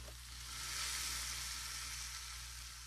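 Food frying in a pan gives off a steady, loud sizzle that holds for the whole span, dense and even, with no talking over it.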